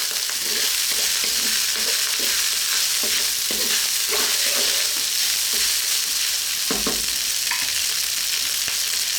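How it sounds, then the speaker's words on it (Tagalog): Pork fried rice seasoned with salt and pepper being stirred in a pan, repeated scraping and tossing strokes over a constant loud sizzle, close up, with no voices. "Tapos again, haluin natin."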